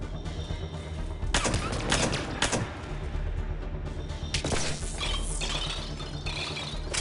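Mass Effect 3 gunfire landing headshots: rapid shots and short bursts with sharp cracks, loud and close, set against a steady game soundtrack.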